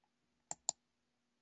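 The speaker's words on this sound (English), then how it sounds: "You can hear Matt furiously clicking, trying to get to the cover." Three sharp, quick computer mouse clicks stand alone against near silence, two close together and a third after a short pause, as someone hurries to reach a comic book cover.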